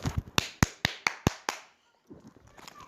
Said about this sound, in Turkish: Abime alkışlar dileyin.